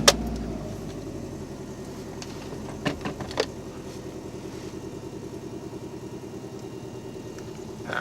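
A Subaru STI with a 6-speed swap idles steadily nearby, a low even engine rumble with a couple of small clunks partway through and no talk.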